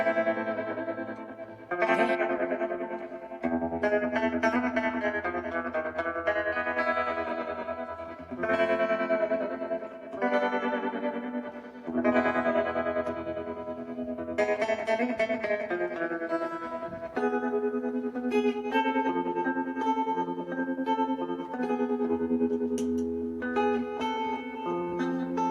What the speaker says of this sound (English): I used this guitar to try out the pedal